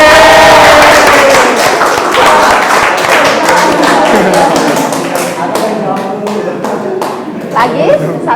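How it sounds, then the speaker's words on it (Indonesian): A classroom of students claps loudly together, a dense crackle of many hands that gradually thins into scattered claps, with voices mixed in throughout. "Mary, tepuk tangan."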